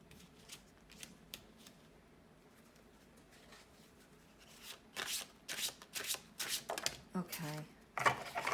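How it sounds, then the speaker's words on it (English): Slippery tarot cards being handled and shuffled at close range, quiet at first and then a run of crisp riffling bursts and slaps over the last few seconds, with no talking. "These cards are so slippery. I'm dropping them everywhere."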